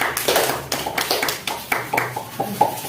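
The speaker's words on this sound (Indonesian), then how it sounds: "kasih tepuk tangan untuk kawannya" A classroom of students claps for a classmate in a short, uneven burst of close hand claps with a few sharper taps, all fairly loud.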